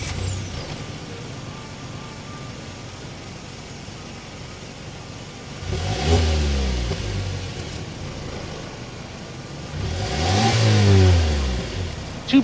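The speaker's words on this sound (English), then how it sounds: "start it up so you can hear that exhaust note" A 2023 Mazda CX-5 Turbo's 2.5-liter turbocharged inline four-cylinder engine runs steadily, then revs up twice with rising, throaty exhaust sweeps, the second rev louder and longer, heard up close.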